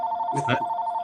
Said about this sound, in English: That's my phone. Don't worry about it.